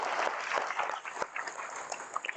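Children at a school result ceremony applaud in a loose, moderately loud burst of clapping, close and uneven, with a faint voice underneath.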